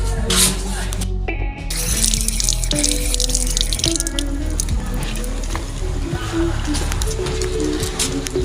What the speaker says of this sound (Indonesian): mematikan keran air jika sudah selesai digunakan